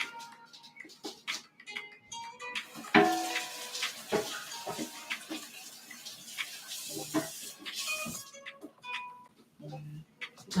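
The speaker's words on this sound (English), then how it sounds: "And so now I'm going to rinse off my board." Cutting board being rinsed under a running tap, water splashing and hissing in bursts with knocks of the board against the sink, while a person talks intermittently.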